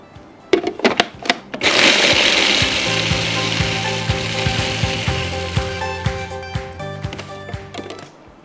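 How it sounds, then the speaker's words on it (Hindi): Biscuits being ground in a food processor after a few sharp clicks and knocks, a loud gritty whirring roar that runs for several seconds, with rattling pieces and clicks as it slows, close up and without voices. "दूसरे मैं डाल देती हूँ इन आवर फूड प्रोसेसर और इसको हम घुमा लेते हैं"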